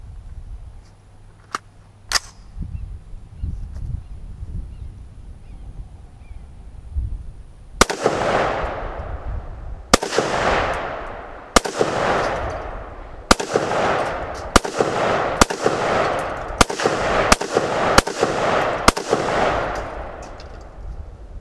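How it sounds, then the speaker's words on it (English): An AR-15 rifle fires eleven sharp shots outdoors, one every second or two, each crack ringing out with a trailing echo. The sequence is preceded by a few faint clicks and handling noises. "before I continue, I'm gonna lob some ammo downrange"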